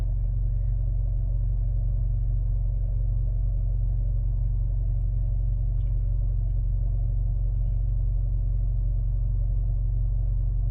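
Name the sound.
Jetour T1 engine running to charge the battery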